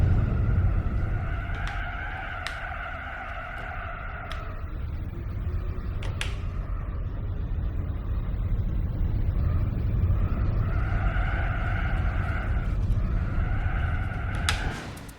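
A car in Gran Turismo 4 driving on a rough track, with a steady engine drone and repeated tire squeals and skids that come in several waves, close and fairly loud.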